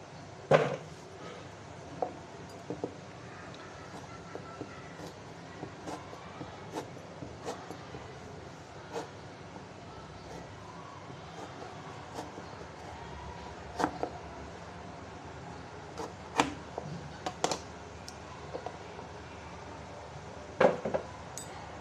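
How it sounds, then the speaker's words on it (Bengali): A knife slices raw green mangoes, skin on, into long pieces on a board, giving faint, scattered sharp cuts and taps over a quiet room hum. "আমগুলো আমি এইভাবে লম্বা সাইজ করে নেব"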